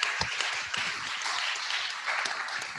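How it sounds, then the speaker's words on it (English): Audience applause at a Tea Party gathering marking its ten-year anniversary, a steady broad wash of clapping from a crowd that holds throughout without any talk over it. "Let's give him a round of applause."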